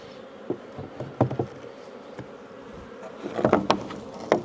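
A colony of honeybees buzzes while being moved to a new beehive stand, a close, wavering drone with swelling bursts as bees fly up around the box, and no talking.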